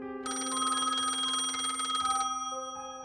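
A telephone bell rings as a sound effect, a bright, rapid metallic ring that lasts about two seconds before a softer tone lingers, alone with no voices.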